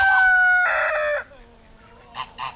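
Chickens cluck and a rooster crows nearby, a loud crow up front followed by quieter calls and two short clucks, with no talk over them.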